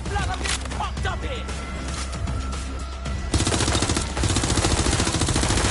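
Video game gunfire in Watch Dogs: Legion, scattered shots under game sounds and voices at first, then a loud, rapid, steady burst of automatic fire filling the last couple of seconds.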